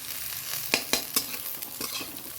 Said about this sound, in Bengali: দেখো এই যে পেঁয়াজটা রসুনটা করে দিলাম। তো পেঁয়াজটা যে খুব লাল করে ভেজেছি তা না